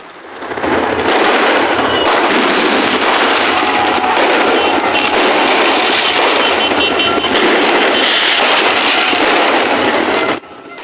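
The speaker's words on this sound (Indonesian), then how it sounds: "Keduanya saling menembakkan petasan ke arah lawan mereka." Loud, rapid crackling bursts of firecrackers fired between rival groups in a street brawl in Kampung Gembrong, going off continuously, dense and close, with no talking over the noise.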